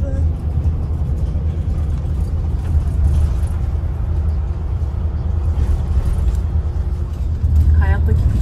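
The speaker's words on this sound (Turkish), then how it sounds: "Otobüs yolculuğu başlasın." A double-decker bus drives along with a steady low engine rumble and road noise throughout, heard from inside while passengers talk over it.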